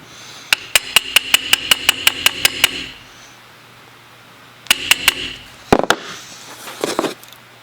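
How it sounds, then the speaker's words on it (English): A screwdriver being tapped down into a stuck gun screw: a quick run of about ten sharp metallic taps, a pause, then a few more taps followed by scraping handling noises. "Tap it down into place."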